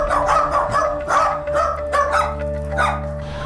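Jack Russell terriers bark inside a house, several sharp, repeated yaps and barks at close range in an uneven, overlapping rhythm over a steady low hum.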